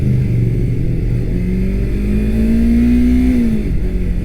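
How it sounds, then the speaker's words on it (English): A 2019 Yamaha R3 motorcycle with a slip-on exhaust riding on the road, its engine droning steadily and close, pitch rising smoothly through a gear, then dipping briefly before settling, with constant wind rumble. "2019 Yamaha R3, no real mods other than just like a slip-on."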